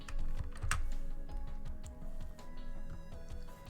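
A mechanical computer keyboard clacks rapidly and steadily nearby, with dense rhythmic key clicks running throughout and no speech over them.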